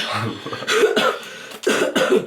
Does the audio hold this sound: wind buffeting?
no